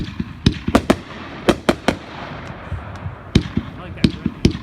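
A consumer firework cake called Lace Impulse fires at an outdoor demo, sending a rapid series of sharp, loud pops and crackles in uneven bursts, with people talking faintly underneath.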